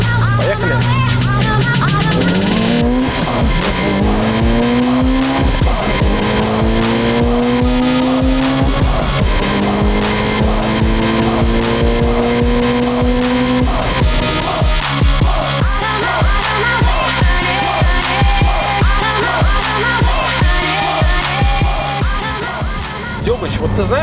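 A 500-horsepower Mitsubishi Lancer Evolution IX engine climbs through repeated rising revs with gear shifts, tires squealing at times, loud and close throughout as it drives hard around a track.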